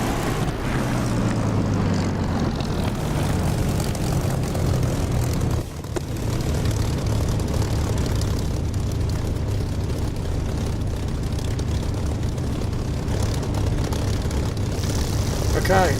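Propeller aircraft engine in the DCS flight simulator, taxiing off the runway onto grass, with a steady, loud droning hum that stays constant throughout, briefly dipping once midway.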